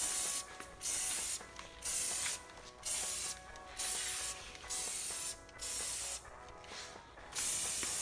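A can of Dupli-Color Tireshine is sprayed onto a truck tire in repeated short bursts, each about half a second of close, bright aerosol hiss, separated by brief gaps in a steady rhythm.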